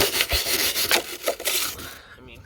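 An old gas-grill wire brush scrubs a rusty Toyota 4Runner frame in quick, rough back-and-forth strokes, close and continuous, stopping abruptly near the end.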